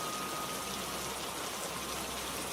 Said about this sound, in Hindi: बारिश तो रुकने से रही